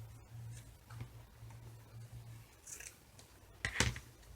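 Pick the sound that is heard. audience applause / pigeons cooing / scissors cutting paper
scissors cutting paper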